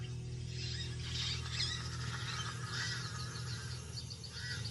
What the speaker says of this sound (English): Pied crows mob her.